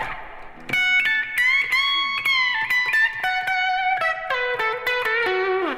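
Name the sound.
clean electric guitar with reverb cranked up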